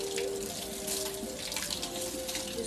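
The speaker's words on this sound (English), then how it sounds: "Just rinsing my tomatillos off." Tap water runs steadily over tomatillos in a kitchen sink, a continuous close splashing wash of water with no talking.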